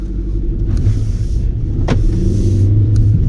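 Steady low engine and road rumble from inside a 2020 Hyundai i10 on a test drive with an automated manual gearbox, continuous and fairly loud, with a few faint clicks and creaks in the cabin.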